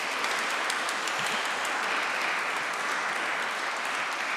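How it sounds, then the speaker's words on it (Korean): A church congregation claps steadily for a long-serving deaconess during a Korean church service in Augsburg, a sustained, even wash of applause from many people in a room. "여러분 권사님께 잠시 박수 한번 쳐주시겠습니까?"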